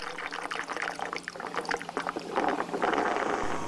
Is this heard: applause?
no